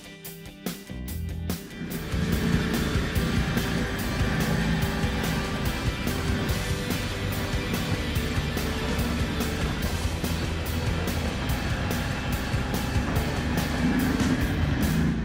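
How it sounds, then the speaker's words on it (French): Argo eight-wheel amphibious off-road vehicle driving, a steady droning engine with a dense rattling roar that starts up after a brief pause and holds loud and continuous throughout. "ça veut aussi dire 6 roues et 8 roues, les véhicules amphibies"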